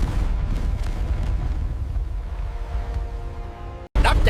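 Naval cannon fire in a battle on a lagoon booms out as a deep, rumbling roar that swells and slowly fades, then cuts off abruptly before another burst starts.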